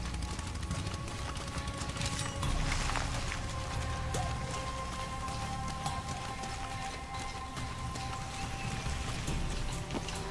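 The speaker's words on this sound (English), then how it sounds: "This rain's not natural." Rain falling in the video game Shadow of the Tomb Raider, a dense steady patter of drops with scattered louder splashes and a faint background hum, continuous and close.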